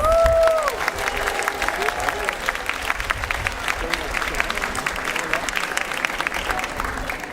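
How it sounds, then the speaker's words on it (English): Audience applause for a Hawaiian hula troupe, dense crowd clapping with some cheering and voices mixed in, steady and fairly loud from start to finish after a brief vocal sound at the opening. "Let's give them a round of applause."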